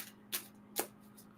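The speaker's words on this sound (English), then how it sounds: "Shuffling the cards." Two quick riffling bursts of a deck of playing cards being shuffled, each a short bright crackle, close and fairly quiet over a steady low hum.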